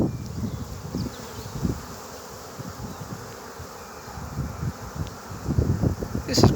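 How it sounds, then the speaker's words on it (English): Honey bees buzz around a hive as a clump settles in, a dense steady hum with rustling and wind noise, rising somewhat toward the end. "Still a big clump of bees up underneath it there."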